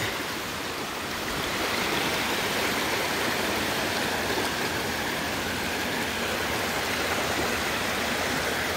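North Fork Falls in Oregon pours in a steady, full roar of falling water that fills the whole stretch without a break, close and constant with no voices.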